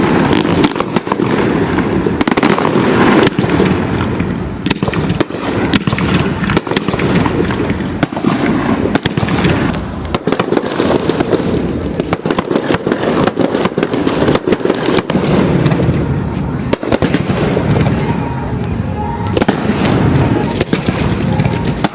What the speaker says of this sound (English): The Motorplex turn it on with a fantastic fireworks display.